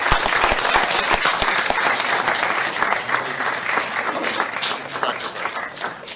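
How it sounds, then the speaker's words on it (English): Audience applause for coaches panel members at a symposium, a lively burst of many hands clapping that is strongest at the start and gradually thins and fades out. "Let's give them a great round of applause."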